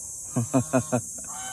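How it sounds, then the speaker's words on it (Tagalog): Geese give four loud honks in a quick even series, close by, then a weaker fifth call fades out. "So ito yung tinatawag nating gansa"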